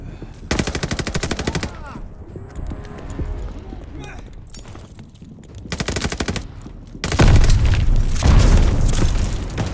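Rapid machine-gun bursts and heavy booms in the Call of Duty Vanguard video game, several loud dense bursts separated by quieter stretches, with voices talking throughout.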